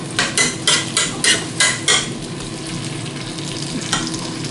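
Zucchini tortilla mixture starting to sauté in a GM multicooker pot, with a quick run of sharp scraping and tapping stirs near the start, then a steady soft frying hiss.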